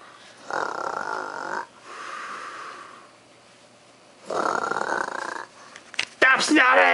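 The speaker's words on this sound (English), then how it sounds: "Stop snoring!" A person snoring in a house, with long raspy inhaled snores repeating at a slow steady pace, followed by a louder burst of voice at the end.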